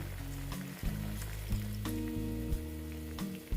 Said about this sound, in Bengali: দেখো বন্ধুরা এখন আমি তেঁতুলটা দিয়ে দিচ্ছি